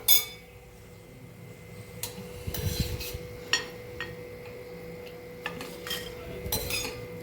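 Fried green chillies are lifted out of a pan of oil with a metal utensil, giving scattered scrapes and clinks of metal on the pan over a steady low background, with a louder clatter near the start and end.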